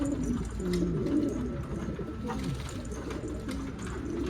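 Pigeons coo in soft, low, repeated calls against a constant murmuring background, with a few faint higher chirps scattered throughout.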